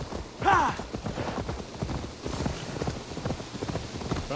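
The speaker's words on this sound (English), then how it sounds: "Oh, she got her own horse now." Horse hooves clip-clopping in Assassin's Creed Valhalla as two riders set off together, a steady rhythmic patter under occasional voices and game sounds.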